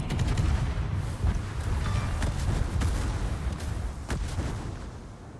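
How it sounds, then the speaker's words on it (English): Guns fire in a naval battle video game, a continuous low rumble of booming gunfire with several sharper cracks, heavy and dense throughout. "when I click, that means I want to fire my guns"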